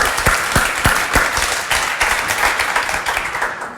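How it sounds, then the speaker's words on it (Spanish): Audience applause at a talk session, dense clapping from a crowd that rises in bursts and holds steady at a moderate, close level with no voices on top. "Aplauso para que se sienta cómodo"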